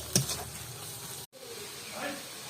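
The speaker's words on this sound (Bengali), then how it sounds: "দিয়ে দিচ্ছি লঙ্কার গুঁড়ো, জিরে গুঁড়ো। এগুলো ভালো করে ভেজে নেবো একটু।" Chili powder and cumin powder fry in a pan for a potol chop recipe, giving a soft, steady sizzle close by with a brief clink at the start and a momentary break midway.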